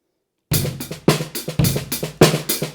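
A drum beat with the left-hand part shifted, loud hits landing about every half second with busier strokes in between, a steady driving groove played alone with no talk.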